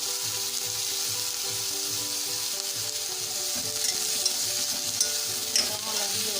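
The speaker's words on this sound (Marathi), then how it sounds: "थोडं हलवून घेऊ आणि 5 मिनिटं वाफेवर होऊ देणार" Bitter gourd (karela) sabzi stirred in a pan, with a continuous loud sizzle of frying and rhythmic scraping of a spatula through the vegetables, plus a few sharp clicks of metal near the end.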